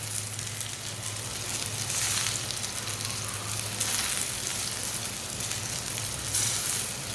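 A paratha made without kneading dough cooks on a hot pan, giving a steady, fairly loud frying sizzle that runs for the whole stretch with a faint low hum underneath and no talking.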